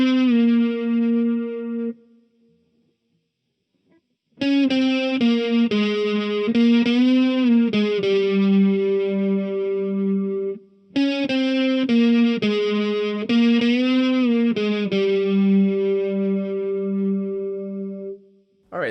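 Distorted electric guitar plays a solo, with notes bent up and released back down in two phrases separated by a short pause, loud and solo.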